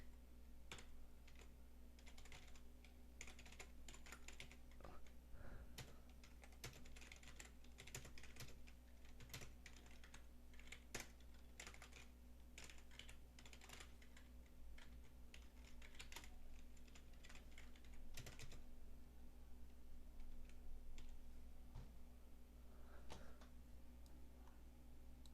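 Rapid, irregular clicking of computer keyboard keys as code is typed, faint and close, in bursts with short pauses over a low steady hum.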